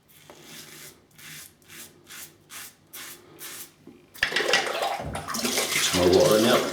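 A Rockwell 6S safety razor is rinsed under a running tap: a series of short rhythmic swishing strokes, then a louder, steady rush of water filling the second half.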